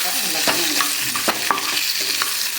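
Black pepper, cumin, coriander, green chili and coconut sauté in a pan, giving a steady sizzle broken by several sharp scrapes and clinks of a spoon stirring, close and fairly loud with no voices.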